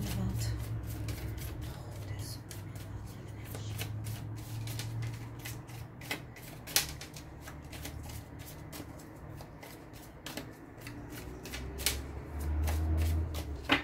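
Tarot cards being shuffled by hand, a rapid series of soft papery riffles and taps close up, continuing steadily over a low background hum.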